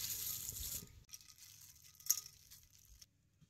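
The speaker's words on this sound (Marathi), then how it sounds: "झिंग आता या पाण्यात सोडायचं." Roasted dried shrimp drop from a hot griddle into a bowl of water, giving one brief, soft splash midway after a fading hiss, with quiet kitchen rustling around it.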